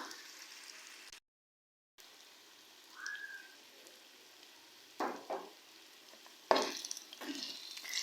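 Chicken karahi frying in a pan after salt goes in, a soft low sizzle broken by a few louder scraping stirs, with no voice over it.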